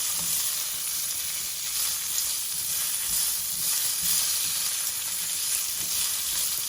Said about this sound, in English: toss it with the sesame, allow it to sizzle